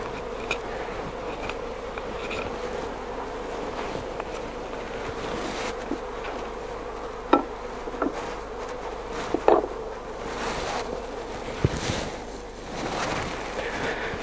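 Honeybees buzz steadily inside an open top bar hive, a continuous close hum with a few brief louder passes from individual bees.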